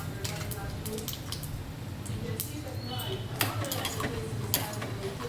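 Peanuts frying in a pan for a Telugu pulusu recipe, with scattered clinks and light scraping over a steady low cooking hiss, a few sharper taps standing out near the end.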